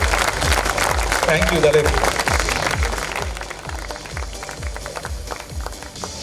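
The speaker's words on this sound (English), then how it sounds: "let's give him a round of applause, please" The crowd at the CCI International 2019 squash final between Tarek Momen and Fares Dessouky claps in a loud burst that thins and fades over several seconds while a voice speaks over it.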